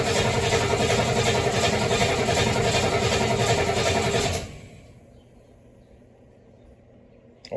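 A car engine runs at a steady, loud idle during an alternator output test, then is switched off partway through, leaving near silence with a faint click at the end.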